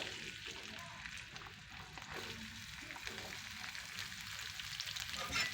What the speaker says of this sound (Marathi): ते कांदे फ्राय करून घेऊया.